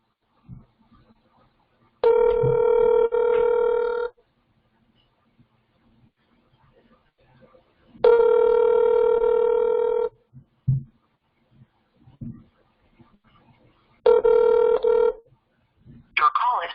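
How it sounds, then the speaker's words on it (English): A telephone rings in long electronic bursts with silent gaps between them, heard through a speakerphone, with brief faint noises in the pauses. "Type yes if you hear the phone ringing."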